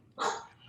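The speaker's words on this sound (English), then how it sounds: "I'm sorry that my dog's barking." A single short dog bark rings out, fairly faint and slightly distant, against a quiet background.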